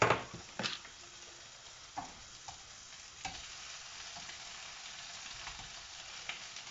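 Food browns in butter in a frying pan with a steady, even sizzle, broken by a few louder scrapes and knocks as it is stirred, with no talking.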